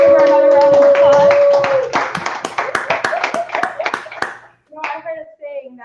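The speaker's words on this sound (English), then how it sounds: "Let's give her another round of applause." Hand claps from a community gathering ring out after someone's sung or spoken performance ends, loud at first over a sustained voice, then breaking into scattered individual claps that thin out toward the end.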